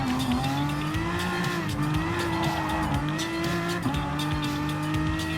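A Nürburgring 24-hour race car in Gran Turismo Sport howls at high revs under a steady engine drone, with gear-shift dips and squealing tires as it closes in to pass a BMW M6, loud and continuous without voices.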